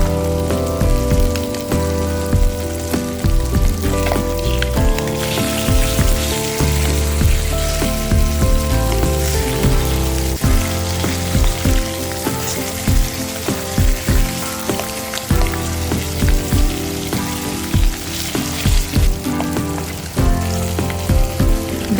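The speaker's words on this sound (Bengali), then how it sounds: "এক পিঠ ভালো করে ভাজার পরে আরেক পিঠ উল্টিয়ে দিবেন।" Pangas and tilapia fish pieces frying in oil, a dense, rain-like crackling sizzle sustained throughout, with steady tonal music playing underneath.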